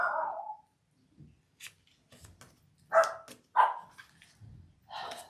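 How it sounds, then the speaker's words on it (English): Several sharp dog barks ring out in short bursts, separated by pauses, fairly close and loud against a quiet background. "Sorry for the barking dogs."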